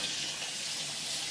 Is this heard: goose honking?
no